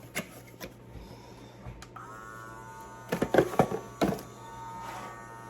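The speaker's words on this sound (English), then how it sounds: "I've got this handy dandy vac sealer for small jobs like this." A small vacuum sealer pulling air from a jar of homemade stuffing mix: a few soft thunks and clicks, then a quiet, steady motor hum that starts partway through and keeps going.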